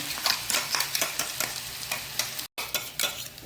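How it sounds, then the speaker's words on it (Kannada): Grated carrot stirred and fried in ghee in a pan for carrot rasamalai, a steady soft sizzle broken by repeated scraping stirs of the spoon, close and clear with no talk. "ಎಲ್ಲವನ್ನು ಇದರಲ್ಲಿ ಹಾಕ್ಕೊಂಡು ಫ್ರೈ ಮಾಡ್ಕೊಳ್ತೇನೆ."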